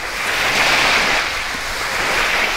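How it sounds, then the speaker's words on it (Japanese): Large waves break on a shore beside a campsite on a day with little wind, making a continuous loud rushing wash that swells slightly and never lets up, with no voices over it. "なんで風あんまないのにすごい波立ってるんだろう"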